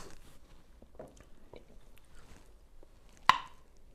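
A single sharp crunchy bite into a spicy pickled cucumber, close and crisp, standing out near the end after soft quiet rustling and mouth sounds.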